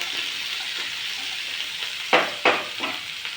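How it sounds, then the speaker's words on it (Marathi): Fresh coriander leaves stir-fry in a pan for Maharashtrian masale bhat, giving a soft continuous sizzle close by, with a few sharper scraping stirs toward the end. "यामध्येच थोडीशी आपण कोथिंबीर टाकूया म्हणजे त्याचं टेक्स्चर खूप छान येतं थोडं परतून घेऊया"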